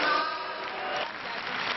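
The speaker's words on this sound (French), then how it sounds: "Sifflet pour les uns, applaudissements pour les autres" Applause from a crowd at a French political meeting, a steady mass of clapping with a thin whistle-like tone early on, fading slightly midway then holding.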